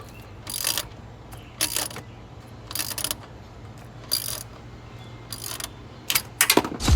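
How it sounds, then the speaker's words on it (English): A socket wrench ratchets while a bolt is tightened during a starter installation on an Acura CL Type S, giving several short, sharp clicking bursts spaced irregularly, close, over a low steady hum. "socket to tighten it the rest of the way"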